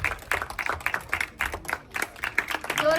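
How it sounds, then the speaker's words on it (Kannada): Audience applause and clapping at a Dubai meet-and-greet event for a film cast, a dense run of hand claps with bursts rising and falling over about three seconds, fairly close and steady. "ಜೋರಾದ ಚಪ್ಪಾಳೆ ಬರಲಿ."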